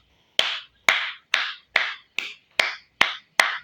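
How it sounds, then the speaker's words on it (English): Eight sharp, isolated hand claps at an even, unhurried pace, close and crisp with silence between each one. "I had to clap it up."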